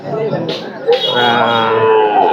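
A dairy cow, local or Friesian type, at a Bangladeshi cattle market gives a long drawn-out moo close by, with crowd murmur and voices of people talking in the background.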